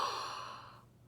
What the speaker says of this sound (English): Now yawn.